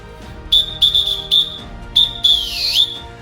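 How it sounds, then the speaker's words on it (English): A coach blows a whistle in a series of sharp, shrill blasts, several short bursts followed by a longer warbling one, loud and close with no talking. "So boys, when I blow that whistle, guess what?"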